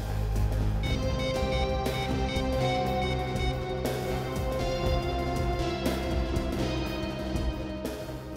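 A landline telephone rings repeatedly in a steady electronic pattern of bursts roughly every two seconds, fairly close and continuous without any voices.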